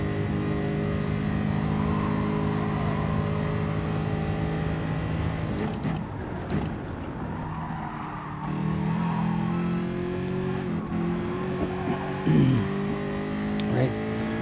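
A race car engine in Gran Turismo Sport screams at high revs in fourth gear, a loud sustained whine that climbs and shifts, with someone talking over it.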